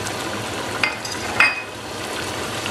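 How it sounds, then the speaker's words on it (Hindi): Six or seven green chillies dropped into a hot pan of oil while cooking shaljam gosht, giving a steady sizzle and frying hiss with two brief metallic clinks of utensils. "अब इसके अंदर मैं ऐड कर रही हूँ हरी मिर्चें, ये 6-7 हरी मिर्चें हैं"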